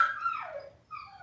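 A dog gives a short, high whimpering whine that slides downward, then a fainter second whine follows after a brief pause, close and alone.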